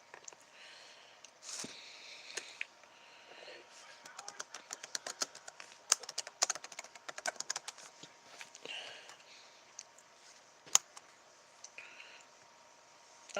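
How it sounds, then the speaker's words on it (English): Typing on a computer keyboard comes through as quiet, irregular bursts of clicking keys, some sparse taps and some quick runs, faint and close to the microphone with no speech over it. "Got something stuck on my keyboard."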